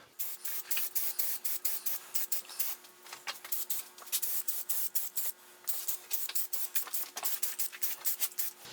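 Spray paint hissing onto the top of a tealight holder for its final coat, in quick, rhythmic bursts of close, steady spraying with brief pauses and no talking.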